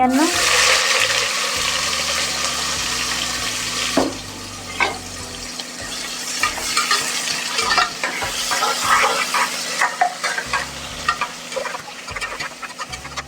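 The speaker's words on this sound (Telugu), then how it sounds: "ఈ విధంగా బిర్యానీకి కావాల్సిన వాటిని వేయించుకోవాలి. 2 నిమిషాల తరువాత అందులో జీలకర్ర వేసుకోవాలి." Cumin and onion frying in a pan for biryani, a steady broadband sizzle running throughout with occasional stirring clinks and scrapes, close and fairly loud.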